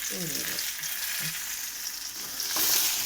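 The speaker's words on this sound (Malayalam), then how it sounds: "കരിയാപ്പില ഊരി അങ്ങനെ ഇടാണ്." Fresh curry leaves dropped into hot coconut oil crackle and sizzle steadily, close up, with a sharp burst of spitting near the end and no talk over it.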